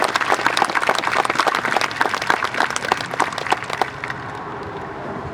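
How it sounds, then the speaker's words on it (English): An audience applauds at a high school graduation ceremony in dense, lively clapping that thins and fades toward the end into room tone. "Let's give them a huge round of applause as well."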